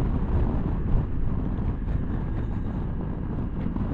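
Steady, loud wind buffeting the microphone while riding a Honda Forza 125 maxi scooter, a constant low roar with no voices.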